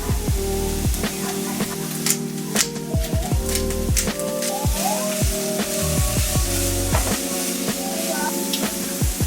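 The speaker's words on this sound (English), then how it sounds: "We're just gonna let that saute." Vegetables sauté in a pan with a continuous dense crackling sizzle, loud and close, with frequent tiny pops and faint clinks throughout.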